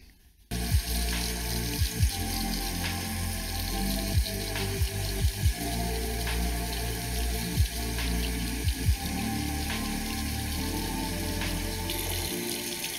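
Tap water runs steadily over a flood-damaged PC circuit board, a continuous close rush with scattered splashes and knocks as it is rinsed, no voices over it.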